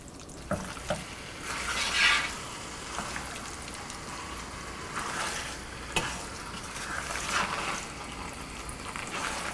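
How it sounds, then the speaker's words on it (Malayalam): Marinated chicken pieces fry in masala in a pan, a quiet ongoing sizzle with repeated scraping stirs and a few soft clicks, no voices. "നമ്മൾ മാരിനേറ്റ് ചെയ്ത് വെച്ചിരിക്കുന്ന ചിക്കൻ പീസുകളിട്ട് നന്നായിട്ട് മിക്സ് ചെയ്യുക. മീഡിയം ഫ്ലെയിമിൽ വെച്ച് 3-4 മിനിറ്റ് ഇതുപോലെ മിക്സ് ചെയ്യുക."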